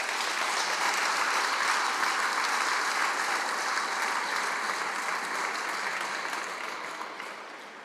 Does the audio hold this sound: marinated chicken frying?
no